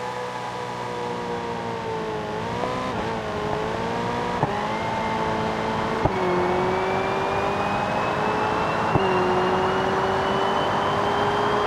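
A Hennessy Venom F5 in BeamNG.drive, its simulated engine holding a steady, loud drone across the whole stretch, with pitch drifting slowly and short dips where it shifts or backs off before climbing again.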